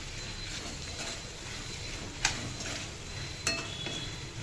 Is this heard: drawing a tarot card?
no